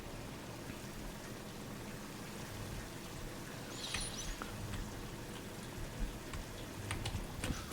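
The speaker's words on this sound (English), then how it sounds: "I do like the rain effects." Steady rain pours down in the factory-building video game Satisfactory, a continuous soft hiss of drops with a few sharper patters and splashes, moderately quiet and heard alone.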